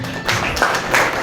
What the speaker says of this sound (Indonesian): Tepuk tangan dulu Teh.